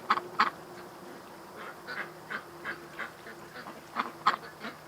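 A domestic house duck quacks repeatedly in a garden, a string of short nasal calls at irregular intervals, fairly close and clear over a faint steady hum.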